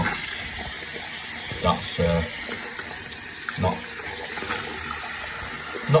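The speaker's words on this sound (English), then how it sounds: "I'm just actually just going to wash them off with a bit of water." Car interior trim pieces from a Citroen C1 being washed off with water, a running-tap splash with irregular bursts as pieces pass under the stream, close by, with a brief spoken word.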